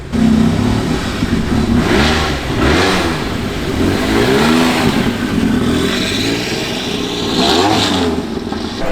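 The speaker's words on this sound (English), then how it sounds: "We caught the 911 Carrera coming in" A Porsche 911 Carrera drives through a Cars and Coffee gathering, its engine revving and rumbling loudly and up close for the whole stretch, with other traffic moving around it.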